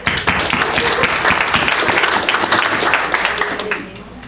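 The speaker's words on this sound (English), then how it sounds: "So a round of applause to all of you." Audience at a Lions Club meeting breaks into brisk, close applause, a dense patter of many hands clapping steadily for several seconds before thinning out and fading at the end.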